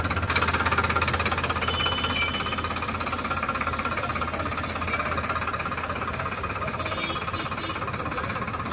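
A tractor engine runs nearby in a steady, loud, rapid knocking chug that holds an even rhythm throughout, with no talking.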